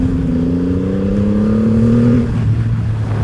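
A Triumph Rocket 3 Storm motorcycle ridden hard in sport mode, its big engine droning loud and steady with pitch rising through the revs, then dropping as it shifts, under strong wind rush.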